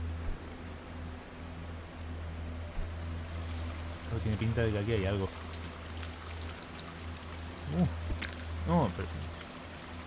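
Steady rushing water from a waterfall in the game Barn Finders, a continuous broadband wash heard throughout while someone talks over it.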